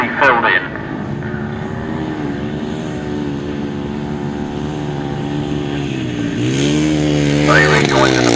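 Racing motorcycles sweep past at Bidden Raceway, engines loud and close with rising and falling revs as riders go by, a second surge building near the end, under a commentator's voice.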